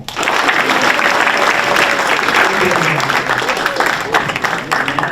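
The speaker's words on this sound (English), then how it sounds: "Give them a round of applause." An audience at a school board meeting gives sustained applause for the Pioneer High School CIF Southern Section champions, a loud, steady clapping with some crowd noise mixed in.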